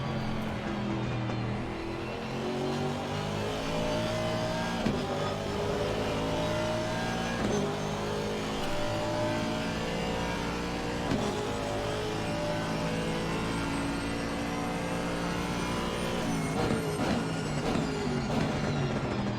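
A GT3 race car engine in a sim racing game at the Hungaroring, droning steadily and climbing in pitch as it accelerates, loud and close with gear changes along the way.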